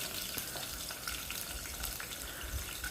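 Onions, slit green chilies and cashews sauté in a single pot for vegetable biryani, producing a constant, fairly faint frying hiss with soft bubbling and no speech.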